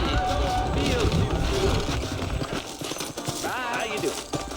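Horse hooves clip-clop in Red Dead Redemption, set in New Orleans, a busy patter of hoofbeats under spoken dialogue, fairly close with street bustle behind.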